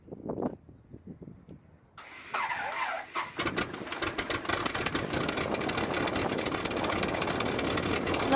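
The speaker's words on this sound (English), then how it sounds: "fly around some in our 1941 Stearman biplane" A 1941 Stearman biplane's radial engine catching and settling into a loud, rough idle after a quiet start with a few brief knocks, continuous and close.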